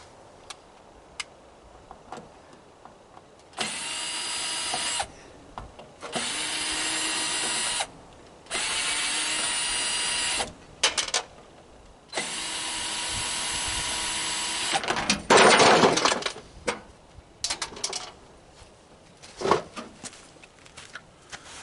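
A Black & Decker power drill whirs in several loud bursts of a few seconds each while a microwave is taken apart, with clicks, taps and rattles of metal parts between the bursts.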